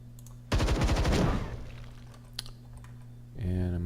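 A burst of rapid gunfire in the turn-based strategy video game Templar Battleforce, a quick stuttering volley of shots with a ringing decay, followed later by a short electronic game tone.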